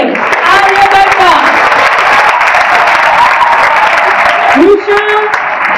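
An audience at a school science quiz competition applauds to welcome a team, a loud, steady wash of clapping lasting several seconds, with an announcer's voice heard over it and a brief dip near the end.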